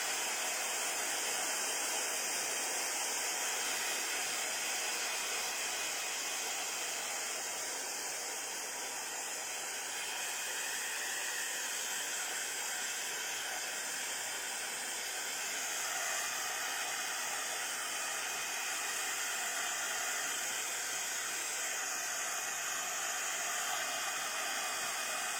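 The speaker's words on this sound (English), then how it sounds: "So let's dry the blobs of paint." A hair dryer blows over blobs of paint to dry them, making a steady, airy whooshing drone that holds unbroken for the full stretch at moderate loudness, with no speech.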